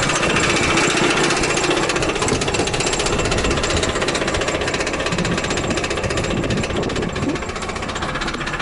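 A Trabant 601 engine with a damaged bearing knocks hard, a loud, rapid, relentless hammering rattle like a jackhammer that continues steadily close by, easing slightly near the end.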